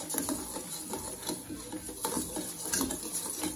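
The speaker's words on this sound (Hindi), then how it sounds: "साइड में हम शक्कर को पानी में मिक्स कर देंगे।" A spoon stirs sugar into water in a bowl for semolina halwa, giving steady close scraping and light clinks throughout, with no talking.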